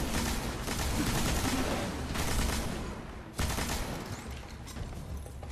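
Machine gun fire in the video game Destiny, rapid sustained bursts of automatic shots with a short gap before another long burst, loud and close with no talk.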